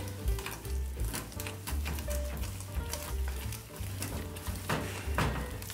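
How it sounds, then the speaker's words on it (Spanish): Dough ingredients being mixed with a whisk in a kitchen, a steady wet stirring and scraping with repeated rhythmic strokes and soft clicks against the bowl, close up and fairly quiet under a low background hum. "Vamos a mezclar con ayuda de un batidor"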